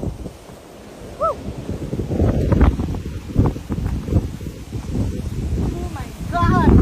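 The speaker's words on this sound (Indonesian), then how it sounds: "Gara-gara angin nih." Strong wind buffets a dry, fire-burned hilltop on Bukit Mongkrang, a peak of about 2,194 metres, as a loud, continuous low roar with gusting surges. A person talks over it.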